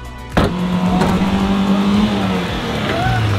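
A car engine idles and hums steadily at close range as the car is driven slowly into position, with a low sustained drone throughout and a faint voice over it.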